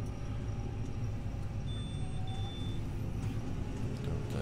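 A Fendt 724 tractor drives across a field, a steady low engine rumble with cab noise that holds constant and fairly loud throughout.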